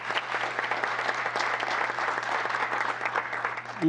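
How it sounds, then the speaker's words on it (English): Audience applause fills a town council meeting in Gilbert, honoring volunteer service; steady, dense clapping from a room full of people runs throughout at a moderate, even level. "can we offer just a wonderful round of applause for their volunteer service for the town of Gilbert?"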